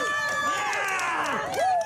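Crowd cheering at a live wrestling-style show, a loud, continuous roar of voices with rising whoops and shouts, close and full throughout, with a sharp swell near the end.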